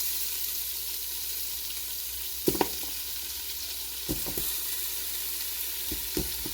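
Oxtails sizzle in melted, browning butter in a hot pot, a continuous bright crackle with a few sharp clunks of meat and utensil against the pot.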